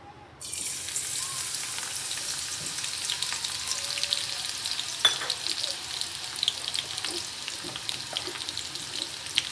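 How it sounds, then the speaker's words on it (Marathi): Garlic paste hitting hot oil in a kadhai for karela bhaji bursts into a sudden sizzle that then keeps up as a steady, moderately quiet crackle with scattered pops and faint stirring. "मी इथे कढईमध्ये तेल गरम होण्यासाठी ठेवलेलं आहे तर त्यामध्ये आपण लसणाची पेस्ट टाकूया"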